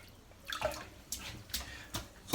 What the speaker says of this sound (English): Right, get it dipped in the water